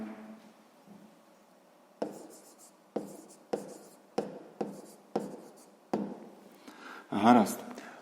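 Hand writing during a sixth-grade math lesson, a series of sharp pen or chalk taps and short strokes on a surface, about one every half second, close and fairly quiet, with brief speech at the end.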